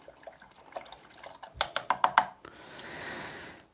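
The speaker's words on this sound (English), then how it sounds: "Now I'll just wash that brush." An acrylic paintbrush is swished and tapped in a water pot, a quick run of sharp clicks and knocks against the container followed by a soft, longer sloshing swirl, close and quiet.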